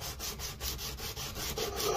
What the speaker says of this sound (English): went through the file, then to sandpaper